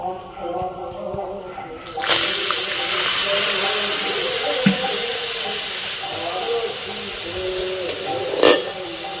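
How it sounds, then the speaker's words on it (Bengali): Water is poured onto sugar in a pan to start caramel for kulfi malai. A sudden loud hiss and steam rush begins a couple of seconds in and carries on steadily, with faint clinks near the end. "এই চিনির মধ্যে একটু সামান্য পরিমাণে জল দিয়ে দেব।"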